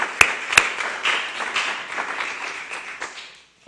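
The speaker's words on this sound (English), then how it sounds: "So let's give them a round of applause for that." Audience applause at an Essex County Freeholders ceremony honoring a high school baseball team's state championship, a couple of sharp near claps over a steady crowd clapping wash that fades out at the end.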